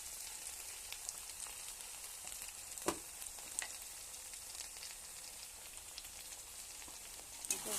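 Ginger garlic paste frying in a pan gives a continuous close sizzle with scattered crackles and a couple of sharper pops or stirs, and no one speaks.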